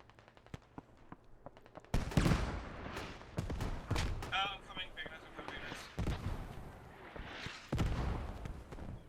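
Mortar fire in the online military shooter Squad during a large tournament match: several heavy, sharp booms and thuds strike at irregular intervals over constant battlefield noise, with a commentator talking throughout.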